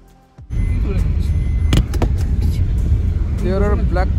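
A car drives along blacktop roads near a palace mud fort in Kuchesar, its steady engine and road rumble continuing close by with people talking over it.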